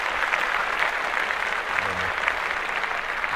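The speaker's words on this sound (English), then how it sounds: "let's clap that up" Clapping applause drops into a podcast conversation, a dense continuous patter of hands holding steady at close range, with a brief low voice murmur partway through.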